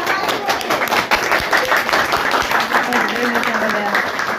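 An audience at a business gathering breaks into loud, sustained clapping that stays dense and close for several seconds, with some voices and cheering mixed into the applause.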